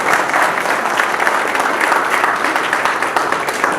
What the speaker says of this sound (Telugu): అలా ఉన్న శ్రీనివాసులు గారికి, లక్ష్మి గారికి ఒకసారి గట్టిగా చప్పట్లు